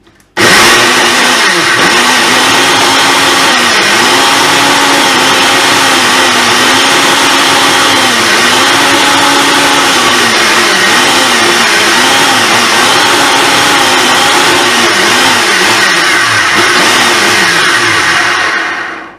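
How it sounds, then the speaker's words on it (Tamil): An electric blender whirs loud and steady for nearly twenty seconds blending a watermelon and strawberry drink with sugar, its motor pitch wavering slightly as the fruit churns, then stopping at the end. "இப்போ இத நல்லா blend பண்ணி எடுக்கலாம் இதை நல்லா blend பண்ணிடலாம்"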